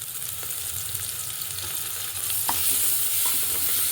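Ginger, garlic and green chili paste fries in oil with a constant close sizzle and crackle, with a couple of spoon scrapes as it is stirred, no voices present.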